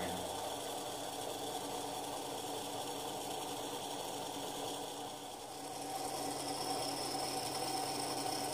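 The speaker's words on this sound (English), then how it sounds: "Here the flywheel of the toy is rotating so that in order to make the two magnets rotate" A toy car flywheel spins two magnets past a copper wire coil, making a continuous close mechanical whir that dips briefly about halfway through before resuming.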